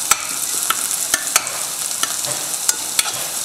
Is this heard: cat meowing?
no